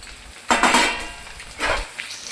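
Boiled noodles drop into a pan with ginger-garlic paste and are tossed, giving two clattering, rustling bursts of metal-on-pan scraping and a faint sizzle, close and loud, no voices.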